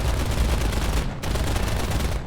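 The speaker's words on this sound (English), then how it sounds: "And that was the sound of the flak opening up." Anti-aircraft flak guns in War Thunder fire in a loud, dense, continuous barrage of rapid overlapping bursts, with a brief dip in the middle before the firing resumes.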